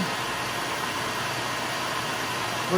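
An Electrolux vacuum cleaner motor runs at a steady, even whine with a broad airy hiss, continuous and close throughout, with no talking.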